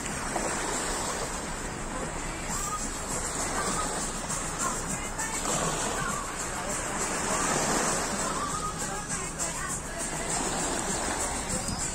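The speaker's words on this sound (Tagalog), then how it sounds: "Pakinggan na lang natin yung dagat." Sea waves wash continuously onto the beach at Akti Miaouli on Kos Island, Greece, a broad, steady rushing surf with soft swells and no clear talking.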